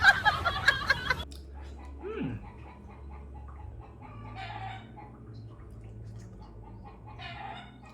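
A chicken gives a few clucks and a rising call after a brief loud burst at the start, then faint scattered clucking continues over a steady low hum.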